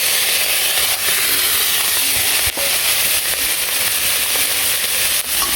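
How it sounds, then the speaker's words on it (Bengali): Small shrimp frying in a pan for a gourd-leaf dish, a loud continuous hissing sizzle that holds steady throughout with a few faint clicks on top. "তো তার জন্য যে চিংড়ি মাছগুলো ভেজে নিই"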